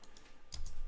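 Keys clack on a computer keyboard as a search is typed, a few quick, soft taps close by against a quiet room.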